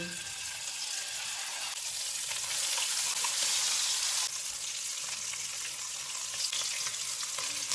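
Steady broadband sizzle of onion, ginger and garlic paste frying in hot oil, continuous and fairly close, with faint clinks of stirring and no voices.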